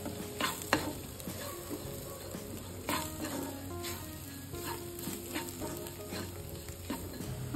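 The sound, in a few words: stirring chicken with masala powders in a pan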